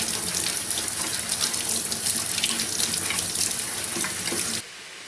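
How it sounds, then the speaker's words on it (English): Running tap water pours steadily into a sink as potatoes are washed by hand, a continuous close broadband splash that stops abruptly near the end, with no talking. "back to washing more potatoes"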